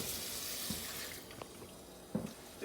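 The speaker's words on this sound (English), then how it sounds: "just cut your water on low" Water runs from a kitchen tap on low in a steady hiss while a turkey is cleaned, then eases off, leaving quieter splashes and light clatter near a sink.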